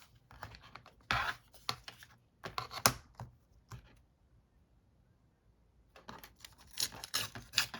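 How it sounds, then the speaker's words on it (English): Junk mail paper being torn by hand in short, sharp ripping bursts separated by pauses, fairly faint and close, with a quiet gap in the middle before more tearing. "Let me just tear this a bit."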